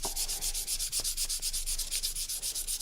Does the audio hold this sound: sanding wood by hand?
yes